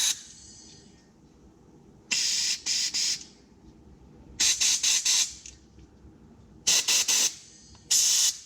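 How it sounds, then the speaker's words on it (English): Compressed air blasts through the jets of a snowblower carburetor, a 31AM5CVS756 unit, in four short hissing bursts, each broken into rapid pulses, loud and close with quiet gaps between. "Use compressed air to blow out all the jets once you're done poking them out."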